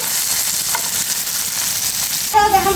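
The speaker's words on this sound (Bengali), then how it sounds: "এই যে দেখো বন্ধুরা আমার মাছটা কিন্তু ভাজা হয়ে গেছে আমি আর একটা পাশ আবার একটু উল্টে দিচ্ছি" Small jatka hilsa fish fry in oil in a pan with a dense, steady sizzle close to the mic, then a brief louder crackle as a piece is flipped.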